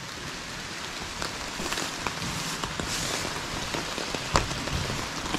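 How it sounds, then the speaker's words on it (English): Steady rain patters on a tarp shelter outdoors, a dense, even hiss broken by scattered sharper drops striking the fabric close by, with no voices. "You can see how the rain will not get on me."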